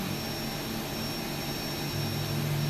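Boeing 737 jet engines spooling at takeoff thrust in X-Plane 12, a steady dense roar with a low droning hum that swells slightly toward the end, no talking.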